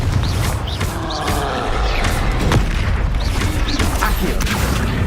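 Confringo fire blast spell in Hogwarts Legacy, a loud continuous barrage of booming explosions and crashing impacts with dense rumbling low end, no speech over it.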